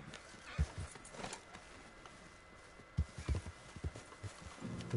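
Horse hooves clip-clop in a video game, a quiet, uneven series of hollow knocks in irregular clusters over soft background noise, with no talk over them.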